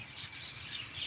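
Birds chirping and singing in a home garden near a river, a faint, continuous scatter of small tweets over a low background hum, with no talking.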